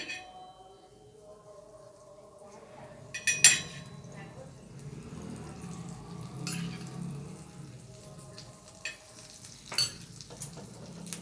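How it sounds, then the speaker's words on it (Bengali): Butter sizzling on a hot tawa while making a potato and egg sandwich: a soft, steady frying hiss runs throughout, broken by a few sharp clinks and scraping stirs, with no talking over it. "এবার আমি চাটুর মধ্যে একটু বাটার দিয়ে দেবো"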